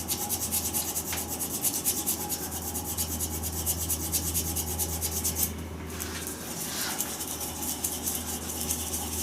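A lathe-spun epoxy resin shaving brush blank being sanded at the first grit, a continuous close, loud rubbing hiss over the steady hum of the lathe motor.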